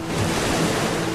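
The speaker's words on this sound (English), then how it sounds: "Waves came over the side of the boat." Waves crash and strong wind blows across a lake around a small boat, a brief, dense, loud wash of surf and gusting noise with no voices.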